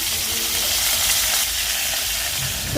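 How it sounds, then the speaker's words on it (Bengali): Fish frying in a pan gives off a loud, continuous close-up sizzle with a dense crackling hiss that holds steady throughout, with no voices. "এই যে আমি মাছটা ভাজতে দিছি বেশ লাল লাল করে মাছটা ভাজবো"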